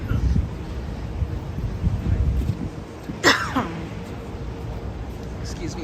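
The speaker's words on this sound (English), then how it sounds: "Excuse me for the cough." A single short cough in the open air on a New York street during a morning walk down Broadway, sharp and close, rising over steady wind and traffic rumble, with speech around it.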